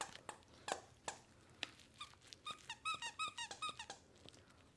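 Shiba Inu puppies play with squeaky dog toys, producing a quick run of close, high squeaks mixed with soft thumps and chewing taps, fairly quiet overall and without talking.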